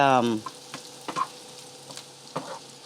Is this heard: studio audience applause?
no